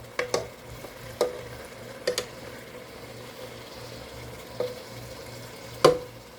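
Power XL StirMax multi cooker slowly stirring and browning chili, a low steady sizzle broken by sparse scraping clicks of the paddle at intervals, close and fairly quiet.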